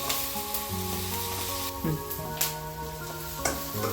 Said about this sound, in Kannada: ಇದೆಲ್ಲ ಸ್ವಲ್ಪ ಫ್ರೈ ಮಾಡ್ಕೋಬೇಕು ಚೆನ್ನಾಗಿ